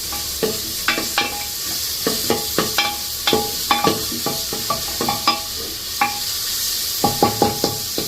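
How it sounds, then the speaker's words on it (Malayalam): Onions sizzle steadily in hot coconut oil while a spoon scrapes and stirs them in quick, regular strokes, close and clear with no talking. "ഉള്ളി ചുവക്കെ വറുക്കണം."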